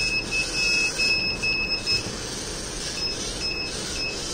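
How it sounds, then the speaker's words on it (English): A small electronic buzzer on an Arduino Nano obstacle detector beeps in short, repeated high-pitched pulses, loud and close, over a noisy background hum. "At the same time, it will give a buzzer alert."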